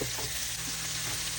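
Tomato sautéing in a hot pan for ginisang monggo gives a steady, close sizzle and crackle with faint stirring underneath, continuous throughout.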